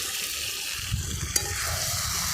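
Close, steady sizzle of mutton and potatoes stir-frying in a pan, with a couple of soft scrapes of a spatula.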